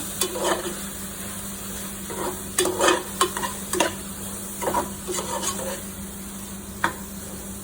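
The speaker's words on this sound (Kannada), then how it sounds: "ಈಗ ಮಸಾಲೆ ಎಲ್ಲ ಹಾಕಿದಾಗಿದೆ. ಸೊ ಚೆನ್ನಾಗಿ ಮಿಕ್ಸ್ ಮಾಡ್ಕೊಳ್ಳೋಣ." Masala being stirred in a hot frying pan for chicken biryani, with steady sizzling and frying under irregular scraping strokes of a spoon against the pan, close and moderately loud, no talking.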